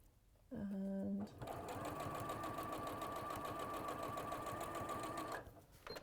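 A domestic sewing machine stitches fabric appliqué, with a brief whirring start, then a long steady run of fast rhythmic stitching, close and clear, before it slows to a stop.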